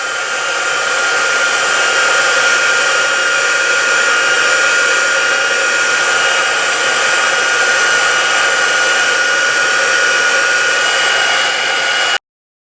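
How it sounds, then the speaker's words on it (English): A heat tool blowing continuously while drying the coating on a fishing lure, a loud, steady, close hair-dryer-like roar that holds unchanged for about twelve seconds, then cuts off abruptly. "I'm going to try to do this while my heat tool is still"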